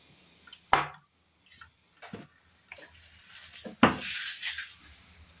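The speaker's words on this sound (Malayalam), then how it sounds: "പാൻ അടുപ്പത്ത് വെച്ച് കൊടുത്തതിന് ശേഷം അതിലേക്ക് ഒരല്പം എണ്ണ ഒഴിച്ച് കൊടുക്കാം." A little oil goes into a pan on the stove while a Kerala curry is started: scattered clinks and clatters of the pan, then a brief hissing splash and sizzle that lingers, with no talking.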